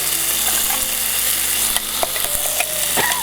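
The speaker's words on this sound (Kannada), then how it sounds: "ಈಗ ನಾವು ರುಬ್ಬಿರ್ತಕ್ಕಂಥ ಚಟ್ನಿಯ ಮಿಶ್ರಣವನ್ನು ಹಾಕ್ತೀವಿ" Ground chutney paste with ginger, garlic, cumin, curry leaves and dried chillies frying in a pan, a loud, dense, hissing sizzle with a few light stirring clicks, heard up close without speech.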